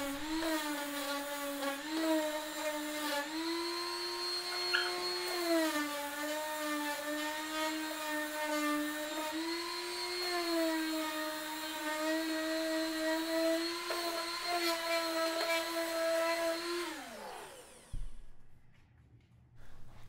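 Power sander working wood filler off a homemade gear stand, a steady high whirring drone with slight pitch wobbles that runs close and alone for about seventeen seconds before winding down and stopping.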